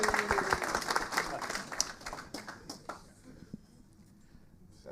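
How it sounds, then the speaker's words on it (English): Convention audience of amateur radio enthusiasts giving a warm round of applause, clapping that starts fairly strong then thins out and fades over a few seconds. "let's just give a warm round of applause for the 5 people who've never done a contest"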